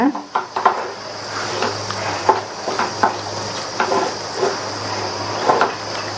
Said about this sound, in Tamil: மிதமான தீயில வச்சு நல்லா இந்த மாதிரி கிண்டி கொடுத்துட்டே இருங்க